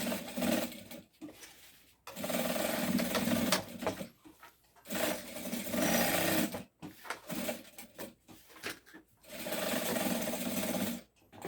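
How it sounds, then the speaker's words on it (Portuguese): A sewing machine stitches an X across a padded backpack strap, heard as four or five close bursts of rapid stitching separated by brief pauses as the fabric is turned. "Aí aqui agora é só você chegar e fazer um X na costura. Costurar em X."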